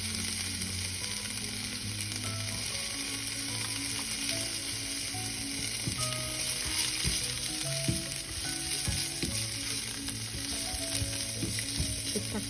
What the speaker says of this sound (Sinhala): ලුණු ටික බැදෙනකොට මම සුදු ලුණු අමිරිස් ටික දාගන්නවා.